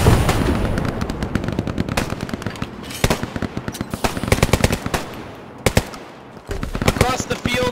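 Rapid machine gun bursts in the World War II shooter Hell Let Loose, loud crackling volleys repeating throughout with brief pauses between strings of shots.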